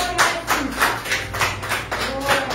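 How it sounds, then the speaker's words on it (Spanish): A church congregation applauds during a Spanish-language worship service, steady clapping with rhythmic surges, fairly close and filling the room, with voices faintly mixed in. "Denle un aplauso a Dios."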